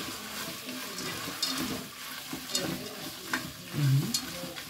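Onion fries in a pan with green peas for a creamy sausage pasta, a steady close sizzle with soft stirring scrapes and brief louder crackles.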